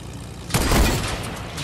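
A single loud sniper rifle shot in Fortnite, a sharp booming crack that rings out and decays over a steady engine hum.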